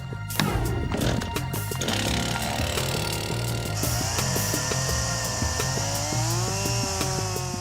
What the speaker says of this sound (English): To speed up the process, Naked Science calls in the chainsaws.